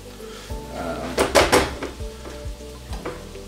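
Scrambled tofu cooking in a pan, with a soft sizzle and a few clattering stirs and scrapes of a utensil against the pan, close and moderately loud, with no voices.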